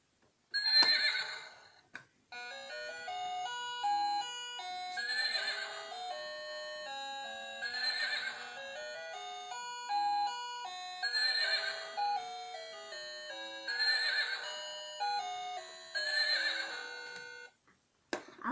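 Button on a children's farm toy sets off a synthetic horse neigh, followed by a tinny electronic jingle that repeats in short bright phrases, close and steady, with no voices.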